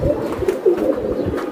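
Racer pigeons in a breeding loft coo close at hand, a run of soft, rolling low calls repeating quickly with no talk over them.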